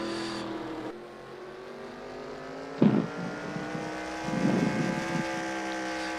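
Race cars in a heat race at Stafford Motor Speedway roar past, a sustained engine drone with one sharp louder burst midway and a swell as another car nears, heard from trackside with no talking.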